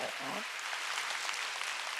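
Church congregation clapping during a Sunday worship sermon, a dense steady patter of many hands filling the space after a brief voice at the start.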